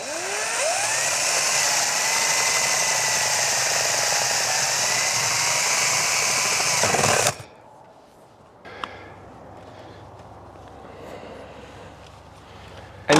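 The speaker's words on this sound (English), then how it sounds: "I need to drill a hole into here now" A power drill whines steadily at close range for several seconds, drilling a hole in a Winnebago Revel van roof, then stops abruptly, leaving quiet handling noises and a sharp click.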